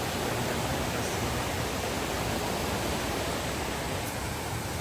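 Steady broadband rush of a river flowing right in front of a riverside camp at Curug Cipamingkis in Puncak, close and constant with no voices.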